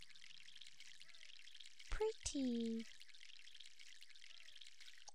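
Watering a sapling in the video game MySims makes a short splashing, pouring burst of under a second, with a voice speaking briefly nearby.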